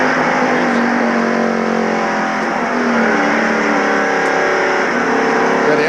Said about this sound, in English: You can hear that motor wide open.